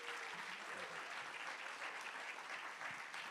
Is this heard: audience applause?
yes